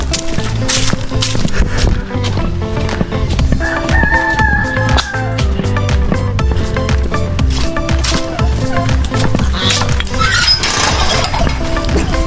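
Free-range chickens cluck and a rooster crows close by, over steady rhythmic music with scattered clicks and knocks.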